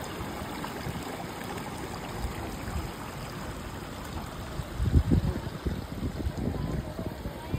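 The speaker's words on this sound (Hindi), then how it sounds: "वहाँ ऊपर से झरना बहता है एंड शिवलिंग का अभिषेक करता है" A waterfall pours down onto a Shiva lingam near Manali, a steady broadband rush of falling water, close and continuous, with a brief louder splash surge partway through.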